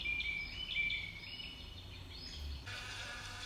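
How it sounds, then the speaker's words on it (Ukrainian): Faint, high bird chirps and twittering over a quiet outdoor background, with a brief brighter burst near the end. "Це співають птахи у лісі."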